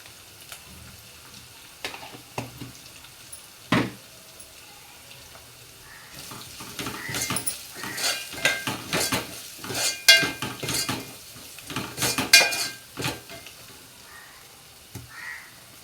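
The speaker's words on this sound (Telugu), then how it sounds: "అవి కొంచెం వేగిన తర్వాత ఇప్పుడు అందులో పసుపు వేద్దాము" Tomato rasam cooking: in a pan where turmeric is being added, close metal clinks and scrapes of a utensil sound in irregular bursts over a soft watery hiss, busiest in the middle.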